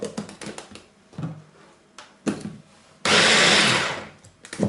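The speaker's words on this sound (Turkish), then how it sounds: "Bu malzemeleri robottan geçirelim." A food processor blends roasted peppers, tomato paste, garlic and spices, with some clattering handling knocks followed by a loud, steady whirring burst of about a second and a half that winds down.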